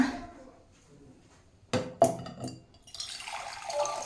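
A short splash of water lands in a glass, with a couple of clinks, followed by a steadier hiss of liquid pouring, quiet and close.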